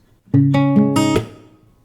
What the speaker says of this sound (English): we're going to kill those notes dead by damping.